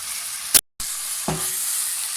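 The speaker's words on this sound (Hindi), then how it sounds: "तेज़ हीट के ऊपर हम इसे बनाएंगे जब तक कि इसका कलर नहीं थोड़ा सा चेंज हो जाता।" Chow mein ingredients stir-fried over high heat give a steady close sizzle, broken by a brief gap of silence and a short clang of utensil on pan.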